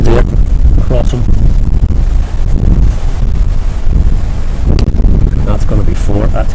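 Strong wind buffeting the microphone at an outdoor club cricket match, a loud continuous rumbling roar that runs throughout, with voices talking underneath.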